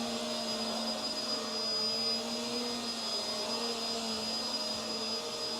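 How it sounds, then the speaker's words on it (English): A Hoover Windtunnel Tangle Guard upright vacuum cleaner running with its brush roll spinning, a steady loud motor roar carrying a high whine, continuous and close with no talking. "Interesting sound the brush roll makes whenever it turns on."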